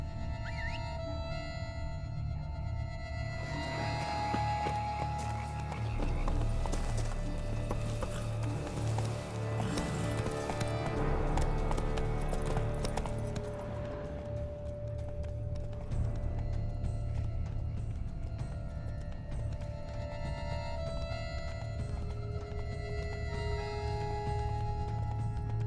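A horse gallops in The Witcher 3: Blood and Wine, its rapid hoofbeats running steadily under a layered game music score and ambient tones, with a continuous rhythmic drive throughout.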